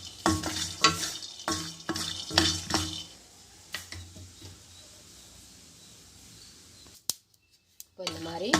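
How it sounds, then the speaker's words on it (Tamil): Raw peanuts dry-roasting in a kadai, stirred with repeated scraping and rattling strokes, clustered near the start and then sparser, followed by a short silence and a brief voice at the end. "ஒரு கடாய் வச்சு அதில் கடலக்கொட்டை போட்டுக்கோங்க."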